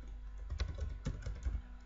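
Typing on a computer keyboard during a CorelDraw design session: a few quick clusters of close, crisp key clicks in an irregular rhythm, with no voice.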